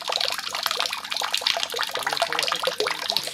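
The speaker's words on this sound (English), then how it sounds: "Someone is probably using the wash basin" Tap water runs and splashes steadily into a wash basin in a student dormitory in Israel, a continuous close gurgle with no talking.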